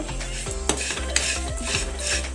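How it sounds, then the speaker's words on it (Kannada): Vermicelli frying in ghee on a low flame, heard as a continuous soft sizzle with a few light stirring clinks against the pan, close and steady, no talk. "ತುಪ್ಪದಲ್ಲಿ ಫ್ರೈ ಮಾಡ್ತಾ ಘಮ ಘಮ ಅಂತ ಅಂತ ಇದೆ"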